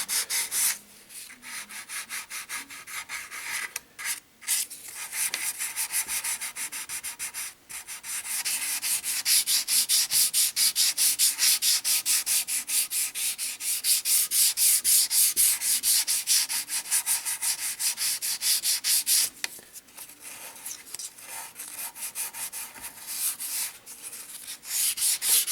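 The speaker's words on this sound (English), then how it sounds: "I'm simply removing a very thin layer of the sanding primer." Fine sandpaper rubs primer off a carved feather in steady, continuous rasping strokes, close and fairly loud, broken by a few brief pauses.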